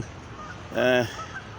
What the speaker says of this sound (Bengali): এই রাজহাঁস এই যে নদীর মধ্যে শোনা যাচ্ছে ডাক